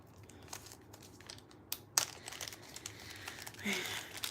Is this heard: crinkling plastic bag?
yes